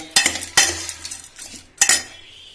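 Spoon stirring and scraping chaat made from Lays and Kurkure with boondi in a bowl, three sharp clinking strokes close up with softer scraping between, no voices.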